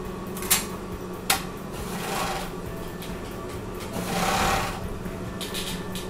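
A sewing machine stitches a bathing suit center front seam, running with a continuous rapid mechanical whir, with a couple of sharp clicks and a swelling burst of speed near the end.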